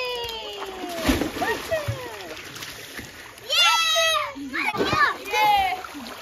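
Children's excited voices mix with a few loud splashes as a boy jumps into water at a farmhouse, fairly close.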